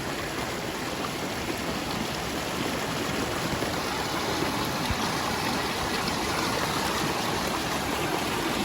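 River water flowing steadily near a rural riverside community after a flood and typhoon, a continuous broadband rush like a stream or rapids, fairly close and even in level throughout, with no talking.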